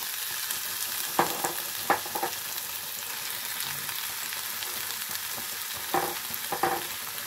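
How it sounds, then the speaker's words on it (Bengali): Vegetables are stirred and fried in a pan for stuffed patol, a Bengali dish. A steady sizzle runs throughout, with a few scraping stirs of a spoon. The frying sounds close and moderately loud, with no talking. "নাড়াচাড়া করে আমি সব ভেজিটেবলটাই দিয়ে দেবো।"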